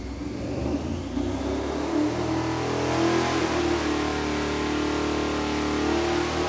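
A 1,000 HP engine revving through quad mufflers, MagnaFlow on the header and Hookers out back, a loud sustained rev with a deep throaty drone rising slightly, no talking.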